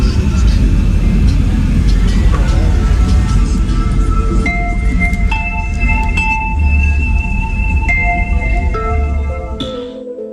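Music with heavy bass plays loud and continuous through 10-inch car subwoofers, a deep low-end rumble filling the cabin under sustained tones and melody throughout, cutting off abruptly at the end.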